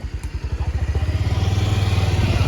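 Motorcycle engine pulsing steadily at close range on a road, with a rapid rhythmic throb that smooths into a sustained drone as it gains speed, no talk.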